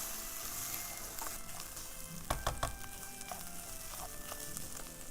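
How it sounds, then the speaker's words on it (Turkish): Rice sautéing in a pan, a continuous close sizzle with a few louder crackles and stirring clatters near the middle, and no voices. "Pirincimizin de hepsini içine attık. Ve güzelce kavuruyoruz."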